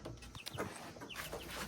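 Close, short clucks from a pet chicken kept near the house, a few irregular soft calls with no talking.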